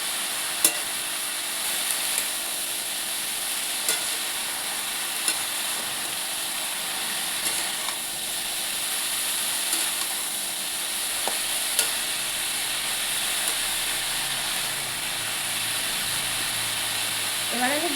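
Two bay leaves drop into hot oil for a Bengali vegetarian cabbage curry, giving a steady, even sizzle and hiss throughout with a few faint clicks of stirring.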